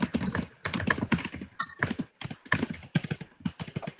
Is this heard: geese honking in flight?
no